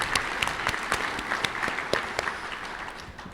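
An audience at an American Quarter Horse Association membership meeting gives a round of applause, with moderate, scattered clapping from a smallish crowd and distinct individual claps standing out, steady for several seconds and then beginning to thin.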